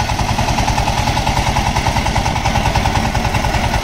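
A heavy-duty 4x4 engine trolley running in reverse gear, its engine giving a loud, steady, rapid chugging thump that drones on without a break, close by.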